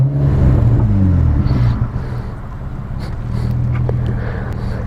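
A Nissan Altima with a Turbo EVO exhaust revs. Its loud, close engine rumble rises and then settles into a throaty idle hum, with no voices over it.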